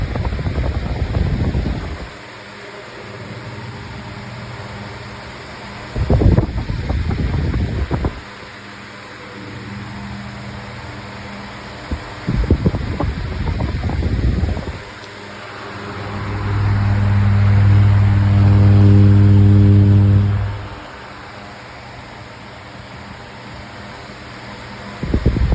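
A Lasko Windstorm pedestal fan runs loud and close with a steady whooshing roar, interrupted by a few sharp clunks, then a rising hum and drone swell as it oscillates before settling back to a constant rush.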